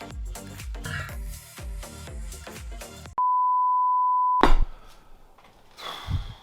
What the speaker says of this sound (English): Phone's starting to ping.